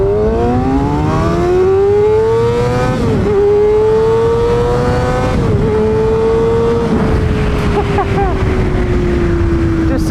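A Kawasaki ZX6R sport motorcycle with a tuned aftermarket exhaust and flashed ECU revs high on the street, its engine note sweeping up and holding in loud sustained pulls with brief dips between, close and dominant throughout.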